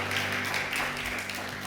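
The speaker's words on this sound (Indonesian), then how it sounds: "Beri tepuk tangan bagi Tuhan." A church congregation applauds during a Sunday service, a soft steady wash of clapping with a low hum of music underneath and no voices on top.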